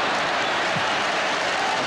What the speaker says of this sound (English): applauding the service.